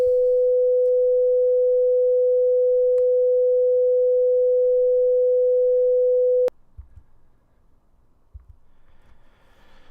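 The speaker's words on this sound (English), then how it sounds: "Let's take a listen to the sine wave at 500 Hertz." A steady 500 Hz pure sine tone holds loud and unchanging for about six and a half seconds, then cuts off abruptly, leaving faint low rumble and quiet background.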